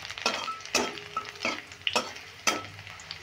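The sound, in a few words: stirring and frying sabudana pulao in a pan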